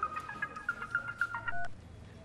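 A telephone rings with a short series of quiet electronic melodic beeps in a quick pattern, followed by a held tone, faint and alone in a quiet room.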